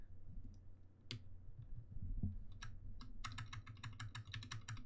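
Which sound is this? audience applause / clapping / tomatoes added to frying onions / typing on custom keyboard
typing on custom keyboard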